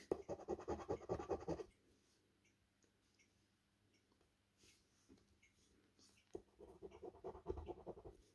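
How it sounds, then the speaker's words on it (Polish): Rough, rapid scratching of a coin scraping across a card, in two loud bursts at the start and end with a quieter stretch between. "monetą się lepiej tą zdrapkę zdrapuje"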